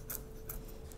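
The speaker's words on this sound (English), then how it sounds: "then very simply with good motion, cut through the shallot." A sharp kitchen knife slices through a shallot, giving a few quick faint crisp cuts in a quiet room.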